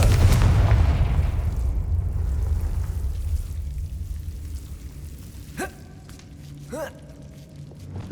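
A Confringo spell explosion in Hogwarts Legacy opens with a loud boom that fades into a long rumbling tail, followed by softer magical whooshing effects.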